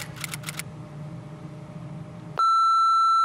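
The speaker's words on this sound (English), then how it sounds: "Please beep that out." A loud, steady electronic censor beep of about one second cuts in abruptly after a stretch of quiet background hiss, with a few short bursts of noise at the very start.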